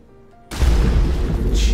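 A loud, sudden boom bursts in after a quiet half-second and rumbles on heavily as an explosion in the action video game Stellar Blade.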